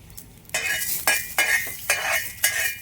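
Onions roasting in a pan while being stirred for an aloo vangyachi bhaji, with five distinct scraping stir strokes at a steady rhythm, each a bright rasp against the pan, close and fairly loud, with no talking.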